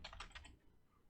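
Quiet, close keystrokes on a computer keyboard come in a short quick burst of a few taps, then a pause and one more tap at the end, with no voices.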